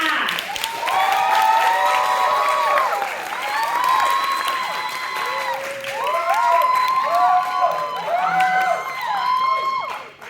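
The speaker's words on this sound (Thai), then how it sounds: "ขอเสียงปรบมือให้กับพี่เฟยค่ะ" An audience at a BNI business networking meeting applauds a presenter named Fei, with sustained clapping mixed with lively cheers and whoops throughout.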